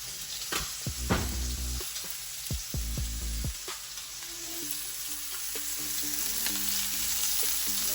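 Steak frying in a hot pan gives a steady close sizzle, with a few sharp crackles and spatters early on and then an even hiss.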